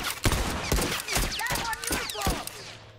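A combat shotgun firing in The Last of Us, several sharp blasts in quick succession with ringing tails, mixed with game effects and a person talking.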